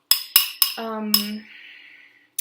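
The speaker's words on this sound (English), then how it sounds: "So I'll just kind of give it another quick stir" Sharp metal clinks against a bowl while a spoon stirs a cauliflower pizza crust mixture with egg whites. Three quick taps come first, then a ringing tone, one more tap and a short scrape, all close and clear.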